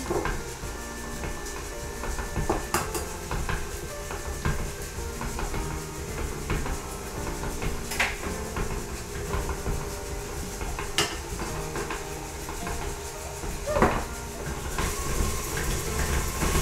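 Eggs are mixed into pecan pie sugar cookie dough with a steady, grinding mixer hum and occasional sharp clinks against the bowl, continuous and fairly close.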